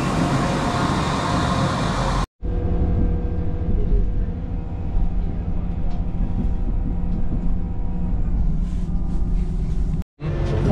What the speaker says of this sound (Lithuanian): Sustos traukinys.